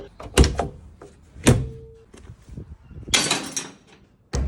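A heavy welded steel door is swung open and shut in a workshop, giving loud metallic clanks and thuds with rattling and a scraping slide between impacts.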